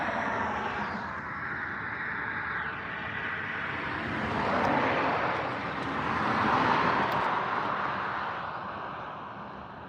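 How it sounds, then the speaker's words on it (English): Army helicopters pass overhead near Tucson, a broad rumbling engine roar that swells twice as they fly by. Distant road traffic sits underneath, and there is no speech. "Army helicopters right there"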